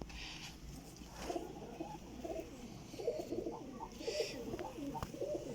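Pigeons cooing at a breeder's loft, soft repeated low coos close by with faint chirps and light background murmur throughout.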